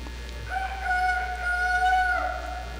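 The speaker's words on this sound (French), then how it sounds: "Tout de suite, yon coq mette chanté." A rooster crows once in a long drawn-out call with a clear tonal, sliding pitch, moderately loud over a steady low hum, with no talk.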